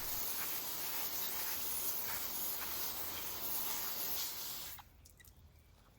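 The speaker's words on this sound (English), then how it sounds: "I'll spray it now just to clean everything up while I'm here." A water hose sprays steadily as debris is rinsed off the filters of a Maytronics Proteus DX4 robot pool cleaner, a loud continuous hiss that cuts off near the end, leaving quiet dripping.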